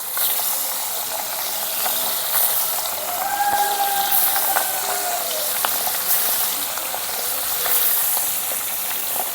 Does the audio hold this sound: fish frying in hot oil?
yes